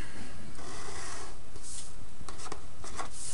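Marker or chalk scratches and rubs against a board in short, uneven strokes while a 20-foot pole is drawn for a geometry diagram; the strokes are close and come alone, with no talking.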